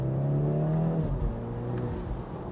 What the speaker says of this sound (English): The exhaust note has a pretty nice note, I have to say